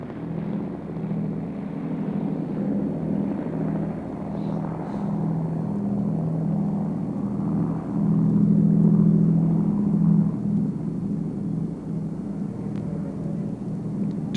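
A 1945-built Avro Lancaster bomber flies at an RAF Fairford air show, its piston engines a steady, loud rumble that holds for the whole stretch and swells slightly midway.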